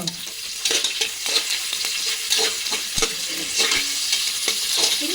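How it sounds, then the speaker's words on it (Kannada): Two sliced onions frying in oil for chicken biryani, a loud close sizzle under rapid, repeated spatula scrapes and stirs against the pan. "ಚೆನ್ನಾಗಿ ಫ್ರೈ ಮಾಡ್ಕೋಬೇಕು"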